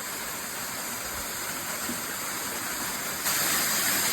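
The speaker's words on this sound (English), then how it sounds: "I was right, it is a waterfall." A small waterfall pours in a steady, unbroken rush of water, close and fairly loud, swelling slightly near the end.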